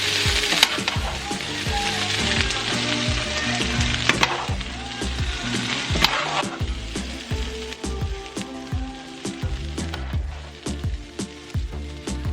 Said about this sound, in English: I'm going to put the chicken onto the hot plate, and keep it warm while making the sauce